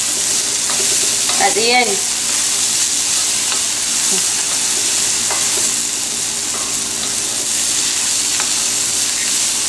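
A vegan vegetable stir-fry sizzles and hisses steadily in a pot, with a few clanks and scrapes of stirring early on and a brief spoken phrase near the end.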